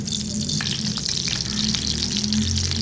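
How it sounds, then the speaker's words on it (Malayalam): Chopped coconut pieces frying in a couple of spoons of ghee in a pan, a loud, continuous close sizzle with a steady bubbling roar and faint crackles throughout, with no speech. "നമുക്കൊരു ചീനച്ചട്ടിക്കകത്തോട്ട് ഇച്ചിരി നെയ്യ് ഒഴിച്ചിട്ട് തേങ്ങാക്കൊത്തൊക്കെ ഒന്ന് വറക്കാം"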